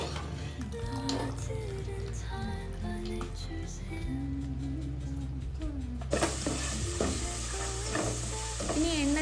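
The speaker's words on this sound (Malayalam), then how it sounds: "ഇനി എണ്ണ ചൂടായി വരുമ്പോഴത്തേക്കും അതിൽ ഇഞ്ചി വെളുത്തുള്ളി ഇട്ട് സോട്ട് ചെയ്യാം" Ginger and garlic sauteing in hot oil for a prawn biriyani, a continuous close sizzle and stirring that grows brighter and louder partway through, with no talk.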